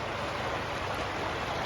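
Floodwater pours across a flooded main road on the route from Tumpreng to Hojai, at the Karbi Anglong border, as a steady, loud, close rushing wash with no break and no voices.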